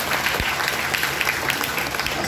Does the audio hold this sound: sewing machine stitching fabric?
no